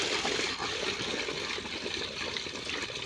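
Water pours from buckets into a container set out for birds during hot weather, a close, continuous splashing and gurgling that stays even throughout the short stretch.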